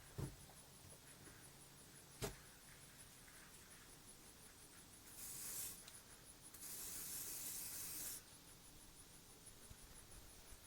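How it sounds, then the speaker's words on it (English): Two bursts of hissing spray into an animal's ears, a short one followed by a longer one, close by in a quiet room after a couple of sharp clicks. "let me spray his ears"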